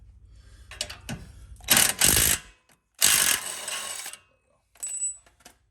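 A 15mm wrench ratchets on a bolt at a Dodge Charger coilover, giving a few loud bursts of clicking separated by pauses, close to the microphone, with no talking.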